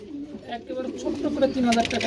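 Soft coos, low and throaty, from exhibition pigeons in blue-type coloring repeat a few times close by at a pigeon sale, with people talking over them.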